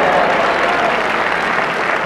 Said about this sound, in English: Great sympathetic roar from the crowd.